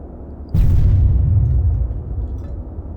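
A heavy cannon round from a T-100 tank in ArmA 3 lands with one loud, deep boom, then a long rumbling decay that fades over a few seconds. No speech.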